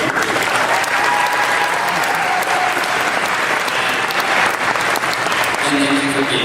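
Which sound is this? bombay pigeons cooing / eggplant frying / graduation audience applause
graduation audience applause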